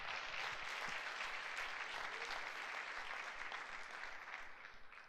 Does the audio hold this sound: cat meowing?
no